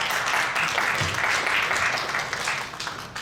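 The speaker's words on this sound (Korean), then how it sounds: "박수 한번 보내드리겠습니다" A gathering of pastors at a New York ministers' association meeting applauds, a continuous, fairly full burst of clapping lasting a few seconds without speech.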